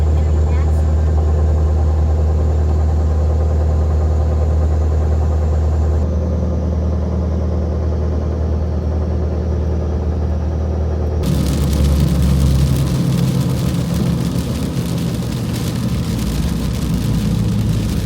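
Truck cabin drone on a wet drive home through a storm, a steady low engine rumble with a shift at the end to louder broadband hiss that suggests rain or spray on the road.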